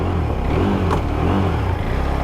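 A KTM RC 390 motorcycle with a misfiring engine is held at high revs, giving a loud, close, rough drone that pulses unevenly throughout.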